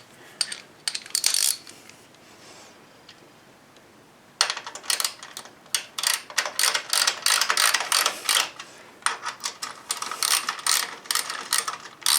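Ratchet wrench clicking in repeated quick bursts as sump guard bracket bolts are tightened on a Triumph Bonneville motorcycle, close and fairly loud, with a short quieter pause partway through.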